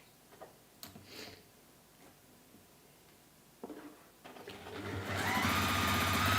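Domestic sewing machine stitching a fabric bunny pouch: a few short starts and taps at first, then a steady fast mechanical whirr that builds and runs continuously, close and fairly loud.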